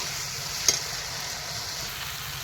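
Oil goes into a pan for a lote fish (Bombay duck) dish and sizzles in a steady, fairly loud hiss, with one sharp click near the start.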